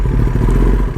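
Deep engine rumble of a large vehicle in the game Nomadic Engine, a loud, steady, low drone lasting about a second with no talk.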